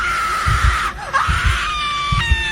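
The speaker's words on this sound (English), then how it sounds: "Sarah screamed" A woman's high, wavering scream rises and bends in pitch over a few seconds, loud and close, set against a dramatic horror backdrop with low thuds pulsing underneath.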